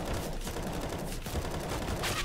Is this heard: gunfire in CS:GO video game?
yes